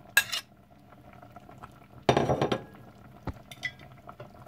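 Pork ribs with carrots and pineapple in its juice stirred in a pot, giving two short bursts of clanking, scraping utensil-on-metal sounds, close and with no talk.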